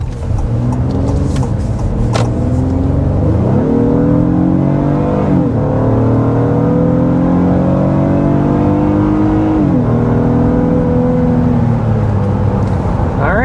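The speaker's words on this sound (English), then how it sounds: "let's go ahead and start with a hard acceleration" A 2026 Honda Pilot V6 SUV engine revs hard under acceleration to 60 mph, its pitch climbing through several gear shifts with brief dips between, loud and close.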